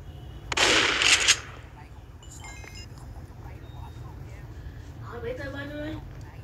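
A short, loud burst of rapid gunfire in the Crafting and Building video game rattles for under a second, followed by quieter game sounds and a voice.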